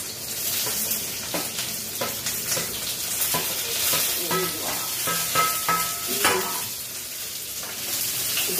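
Cubed onions frying in hot oil, a dense close sizzle with stirring scrapes and a few clinks of a spoon against the pan, steady throughout without speech.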